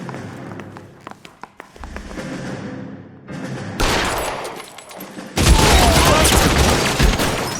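Gunfire from an L.A. Noire shootout: scattered sharp shots and bursts build into a dense, loud volley of rapid fire over the final seconds, with a brief voice mixed in.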